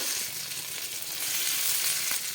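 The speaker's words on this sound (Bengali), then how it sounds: "তেলটা গরম হয়ে গেছে আমি ধোকাগুলো ভেজে নেব" Pieces of cabbage dhoka frying in hot mustard oil in a pan make a steady, bright sizzle that holds evenly throughout, close by and unaccompanied by any voices.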